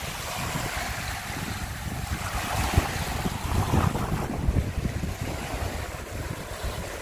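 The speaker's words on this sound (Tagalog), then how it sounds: "medyo maalon siya ngayon kasi mahangin" Choppy sea waves on a windy day at the beach in Jubail, Saudi Arabia, wash and churn steadily under heavy wind buffeting the microphone, a continuous close roar with no voices.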